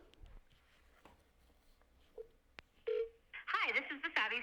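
A phone dials a 313-area number with a few short, separated keypad tones. A voice starts speaking near the end, and everything stays fairly quiet.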